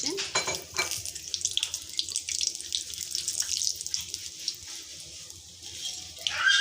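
Food for an iftar recipe is washed under a running kitchen tap, water splashing into a sink with light clinks of dishes and utensils, close and fairly quiet.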